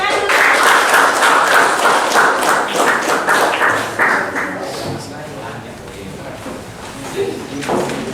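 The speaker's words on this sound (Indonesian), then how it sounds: "Tepuk tangan dulu." A classroom of students claps after a group presentation during a teaching-practice lesson. The brisk, close applause is loudest at first, then thins out as voices start talking over the fading claps.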